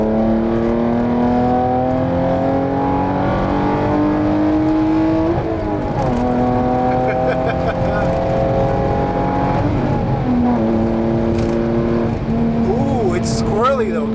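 A Hyundai Genesis 3.8 R-Spec engine revs hard and loud through a drift, climbing in pitch, then dropping at shifts around five and ten seconds, with brief tire noise and people talking over it.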